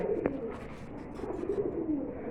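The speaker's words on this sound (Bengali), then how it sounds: "আমরা আসলে এখানে হিউজ পরিমাণ কবুতর আছে" Pigeons coo steadily in soft, overlapping murmurs at a pigeon market, with a faint background hum and no voices.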